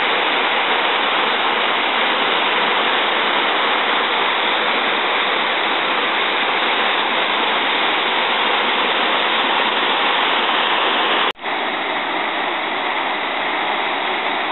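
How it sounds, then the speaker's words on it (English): A waterfall on the Great Ocean Road pours in a steady, loud, dense roar that stays constant throughout, broken only by one brief sharp click near the end. "This is a waterfall."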